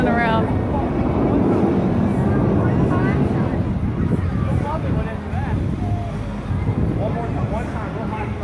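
Roaring jet noise from Blue Angels aircraft at an air show in Orange County, a loud sustained rumble filling the whole stretch while people talk nearby.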